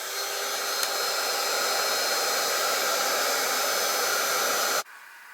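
A heat dryer blows steadily and loudly while drying a craft frame, a continuous airy whoosh that cuts off abruptly near the end, leaving a quiet room.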